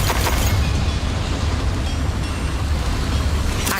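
A Confringo spell explosion from Hogwarts Legacy makes a loud, sustained rumbling blast, a dense roar that stays heavy through its short length with a sharper crack at the start and end.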